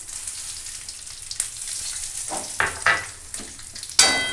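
Bay leaf, dried red chillies and five-spice seeds hit hot oil for a tempering, giving a close crackling sizzle with sharp pops and spatters that grow louder toward the end, no talking.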